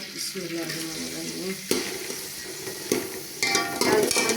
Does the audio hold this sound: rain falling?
no